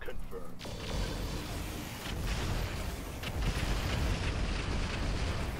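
High-explosive artillery firing in the mech game Roguetech: a sustained roaring, rumbling barrage of blasts, loud and dense, with a couple of sharper booms inside the wash.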